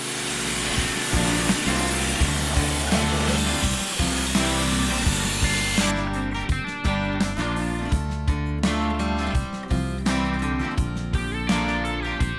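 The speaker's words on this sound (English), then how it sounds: "we can then scrape out all the old gunk from the soundproofing" Steady, rhythmic scraping and rubbing as old gunk is dug out of a generator housing's soundproofing, repeated close strokes over a constant mechanical drone.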